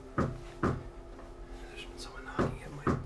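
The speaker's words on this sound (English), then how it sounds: "been someone knocking at my front door for the last 10 minutes or so, and they haven't stopped knocking" Someone knocks on a front door indoors: two quick double knocks, the second pair after a short pause, sharp and fairly close, with a low hum underneath.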